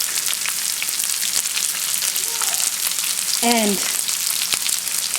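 Mustard seeds, onions and green curry leaves frying in hot oil for sambhar, a steady loud sizzle with a brief sharp crackle midway and a single spoken word under it.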